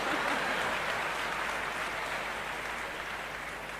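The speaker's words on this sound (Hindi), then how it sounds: "मुझे पता था आप बिना बताए तालियां बजाएंगे" Audience applause at a Fed Diamond event with Niyaz and Rubina Ahmad, a steady, dense wash of clapping that fades slightly as it goes on, with no voices over it.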